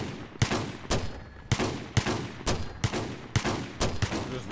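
Frag rounds launched in a combat video game, about eight loud, sharp blasts fired in a steady rhythm roughly every half second, each followed by a short rumbling tail.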